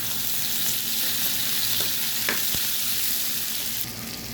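Onions and green chillies with cumin and curry leaves frying in a pan for okra stir-fry, a continuous sizzle broken by a few scraping stirs and clinks, with no talking.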